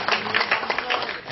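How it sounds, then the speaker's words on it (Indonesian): An audience at a Christian–Muslim debate claps for five speakers, giving a steady, dense patter of applause that lasts the whole short moment without a break. "Kalau udah tepuk tangan begini kan jadi asik ini."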